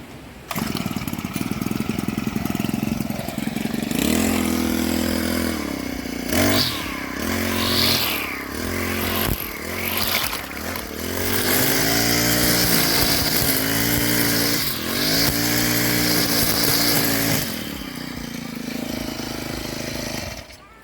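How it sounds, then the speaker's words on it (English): A Honda GX25 line trimmer engine runs loudly and steadily for about twenty seconds, its pitch rising and falling as the throttle is opened and eased off, then settling at a constant drone. "You're ready to go strimming."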